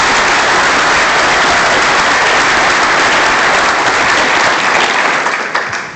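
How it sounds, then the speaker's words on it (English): A loud, dense crowd claps for the coaches at Bobby Bowden's 90th birthday celebration at the Tallahassee QB Club, holding steady for several seconds before tapering slightly at the end. "A big round of applause for the right hands of Coach Bowden."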